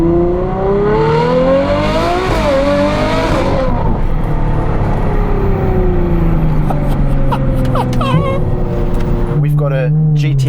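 A Ferrari 812 N-Largo supercar with a Novitec exhaust revs hard, its V12 note climbing steeply then falling away through lower tones, with sharp blips and crackles near the end, loud and close.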